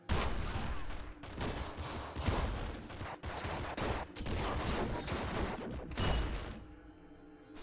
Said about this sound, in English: Plasma cannon. We'll take a plasma cannon.